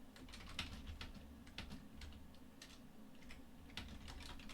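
Steady typing on a computer keyboard, a close run of quick, irregular key clicks with short pauses, heard alone over a low room hum.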